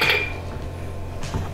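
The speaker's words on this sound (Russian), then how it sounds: "Большой ложечкой снимаем вот этот вот жирный слой сливок" A large spoon scrapes through the fatty cream layer on top of settled milk for homemade cheese, giving a few soft clinks and scrapes against the container, close and quiet, with no talking.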